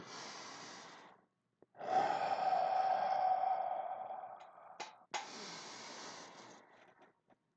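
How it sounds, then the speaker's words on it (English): Slow, deep breaths close to the microphone: a short exhale, a long drawn-out inhale lasting a couple of seconds, then another long breath, with no talking. "taking deep belly breaths in"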